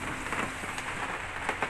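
Steady rain falling outdoors on a winter day, a soft continuous hiss with faint scattered drops, moderately quiet and without talk.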